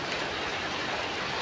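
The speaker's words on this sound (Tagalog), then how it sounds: "Sobrang lakas ng ulan." Heavy tropical downpour, a dense unbroken hiss of rain pounding on surfaces, loud and steady throughout with no voices.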